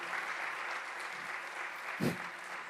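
Audience applause in a church children's Sunday worship service, a steady wash of clapping from many hands at moderate distance, with a brief thump near the end.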